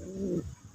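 A single soft, low pigeon coo rises and falls briefly, close and quiet, with nothing else around it.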